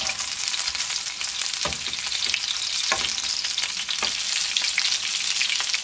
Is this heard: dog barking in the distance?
no